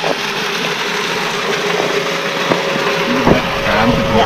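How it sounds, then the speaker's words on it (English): Running on an inverter, a 500-litre-per-minute solar water pump in Thailand hums steadily and loud, with a faint whine and a few knocks and clatters over a continuous mechanical drone. "let's check the solar pump. It's 500 liter each minute, and now it's already start working with our inverter."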